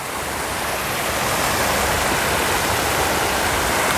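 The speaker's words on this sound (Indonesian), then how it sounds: "Ini saluran air juga, sebelum ke kolam ada saluran air segitiga ini." Water rushes steadily through a triangular channel into a pomfret fish pond, a loud continuous broadband roar with no breaks and no speech.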